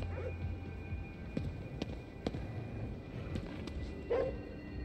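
An Akita dog in the video game Ghostwire: Tokyo barks and yips a few times in short sharp bursts over a steady background hum, moderately close.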